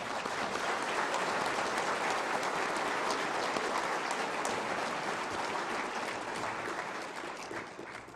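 Sustained applause from a crowd at an awards dinner, dense and steady, tapering slightly toward the end.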